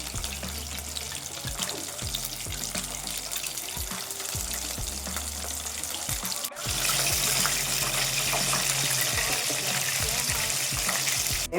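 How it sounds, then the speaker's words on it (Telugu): Chicken pieces fry in oil over a low flame with a steady, hissing sizzle throughout. A sudden jump in loudness about halfway through suggests another piece hitting the oil, and the crackle stays denser and brighter afterward. "ఇప్పుడు స్లో ఫ్లేమ్ మీద ఆయిల్ ఉంది కదా, ఇప్పుడు అలా ఒక్కొక్క పీసు అలా బ్రౌన్ కలర్ రోస్ట్ అయ్యే క్రిప్సీ అయ్యేంత వరకు అలా మనం చేసుకుందామండి"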